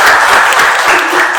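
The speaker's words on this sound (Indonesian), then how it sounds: "kita beri tepuk tangan dulu pada Pak David," Audience applause at a Jember Fashion Carnival cultural event, a dense, steady wash of clapping filling the short moment at full loudness.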